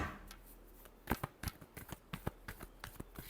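Tarot cards are shuffled by hand in a quick series of crisp riffling flicks and soft slaps, close and fairly quiet, with no talking.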